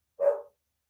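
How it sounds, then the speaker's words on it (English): A single sharp dog bark, close and loud, then silence. "Hey, stop barking in there."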